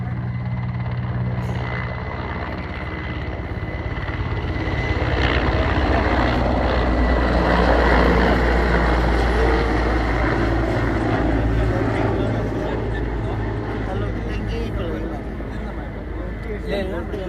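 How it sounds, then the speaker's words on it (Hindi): A helicopter lands at an advanced landing ground in Mariyang, Upper Siang, a loud steady rotor and engine roar that swells and fades, with someone talking over it. "थोड़ा हेलीकॉप्टर को लैंड करने दीजिए।"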